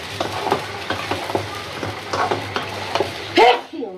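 Prawns and pointed gourd being stir-fried into a curry in a pan over a gas flame, with repeated scraping stirs over a steady low sizzle and a louder clatter near the end.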